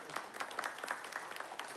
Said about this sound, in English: Keep your applause going for our member and Minister for Health, Warren Clark.